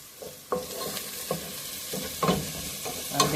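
Vegetables sautéing in a pot for Ital stew, with a steady soft sizzle under a series of spoon stirs and scrapes at irregular intervals, close and moderately loud, no talking.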